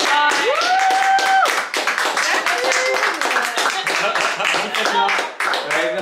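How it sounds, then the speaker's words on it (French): People applauding a home chef named Fatia during a gastronomic dinner served at home, quick clapping from a small group close by, mixed with lively talk and a sung or exclaimed voice over it. "On peut applaudir Fatia."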